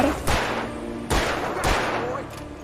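Gunshots fired by a companion character in Alan Wake Remastered: three loud, sharp reports in quick irregular succession over a dense, rumbling game background, with a fainter shot trailing at the end.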